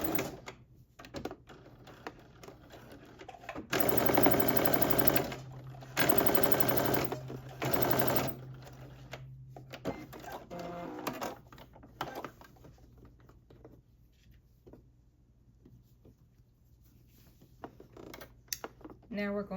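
A sewing machine stitches the side seam of a stretch-fit sweatsuit in a few short bursts, the loudest two running a couple of seconds each near the start, with softer mechanical handling of fabric and quiet background hum afterward.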